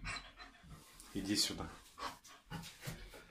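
A German shepherd in labor at home pants heavily and restlessly in quick, breathy bursts, close by, while someone speaks briefly over it.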